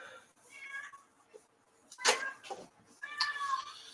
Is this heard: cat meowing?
yes